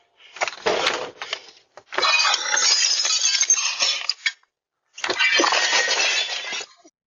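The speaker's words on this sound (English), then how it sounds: "he used his entire strength to punch the glass near the doorbell security camera" A man punches the glass near a doorbell security camera, a few sharp rattling crashes of glass, loud and close, in bursts separated by brief silences.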